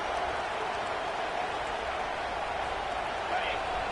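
Stadium crowd at a college football game at Clemson roars as the defense tries for a red-zone stop, a steady unbroken wash of distant cheering at constant loudness.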